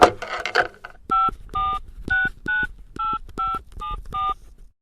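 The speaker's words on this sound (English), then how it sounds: "Jenny grabbed the phone and dialed the number of the office in Paris that made the bookings" A telephone number being dialed on a keypad, with a run of about nine short, evenly paced dial tones after a brief burst of noise at the start, close and clear with no talking.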